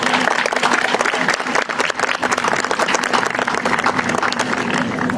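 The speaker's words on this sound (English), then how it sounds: "So let's give them a round of applause." A crowd claps at the opening ceremony of a 2012 Relay for Life event in Fulton, South Fulton and Hickman, a loud, close, continuous wash of many hands that lasts the whole five seconds.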